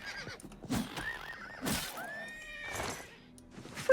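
A horse in The Elder Scrolls IV: Oblivion Remastered whinnies in several short bursts while attacked by a crab, with a few hoof-like thuds between calls, fairly close and clear against a quiet background.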